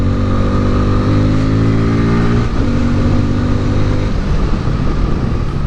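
A 2024 Honda Hornet motorcycle at about 80 km/h, its loud steady engine note with harmonic tones falling as the rear brake slows it, wind roar throughout and no talk.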